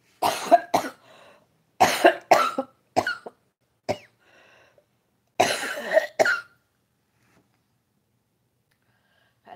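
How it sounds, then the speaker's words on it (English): Several harsh coughs in clusters, some doubled, close and loud, separated by short quiet gaps with faint breaths between. "This cough since I was ill, diagnosed, maybe influenza,"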